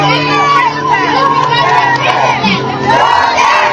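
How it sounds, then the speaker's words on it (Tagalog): A large crowd shouts and chants together, many voices overlapping in a loud, sustained roar with rising and falling cries, close and dense throughout. "Sigawan na sila."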